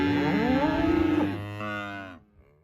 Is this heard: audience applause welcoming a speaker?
no